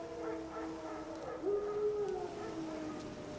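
Wild dogs in The Witcher 3 let out one drawn-out, wavering howl midway through, over a steady low ambient bed of game wilderness sound.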